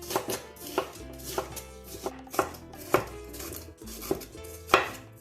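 A knife slices through an onion on a cutting board, the blade striking the board in a steady series of crisp, close chops with brief pauses between strokes.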